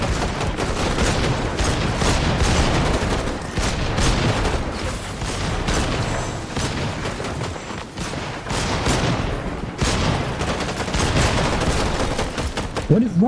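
Sustained gunfire in a shooter video game, loud continuous automatic bursts and booming shots layered with game music and effects, barely easing for a moment midway before resuming.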